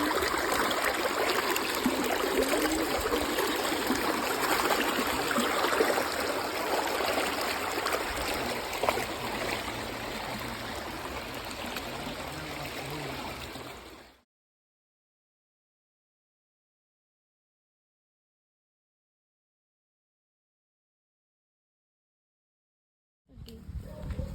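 Steady rushing water from a flooded river, loud and continuous, which cuts off abruptly into silence before a brief return at the end.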